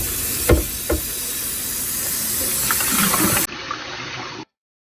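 Freshly boiled potatoes are drained in a kitchen sink: a steady, fairly loud rush of water and steam hisses throughout, with two sharp clunks near the start. The sound drops to a quieter hiss before cutting off.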